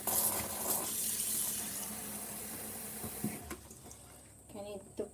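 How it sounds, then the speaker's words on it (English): Tap water runs steadily into a pot in a kitchen while the cook rinses it, a continuous hissing flow that fades after a few seconds into quieter splashes and clinks. "We're gonna add some water here."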